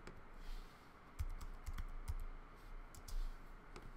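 Typing on a computer keyboard, a quiet run of irregular key clicks with occasional firmer taps, close but soft, no voices.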